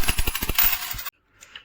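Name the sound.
UAE dirham coins clinking in hand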